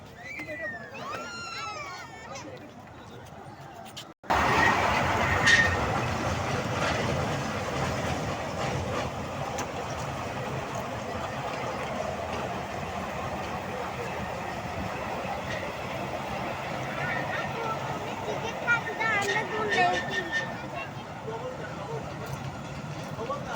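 A train runs along a railway track with a continuous rumbling roar and faint rhythmic clatter that starts abruptly after a few quieter seconds of background voices and ambience.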